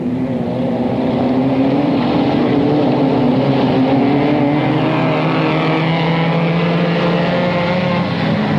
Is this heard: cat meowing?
no